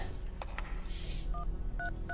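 Telephone keypad dialing in a scene from the 2004 film SAW: three short dual-tone beeps in a steady rhythm, clear over a low rumbling background with no talking.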